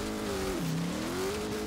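Engine of a car in Forza Horizon 3 holds a steady, fairly loud drone that dips in pitch and climbs back, like a gear shift during a burnout, with a faint squealing edge from the tyres throughout.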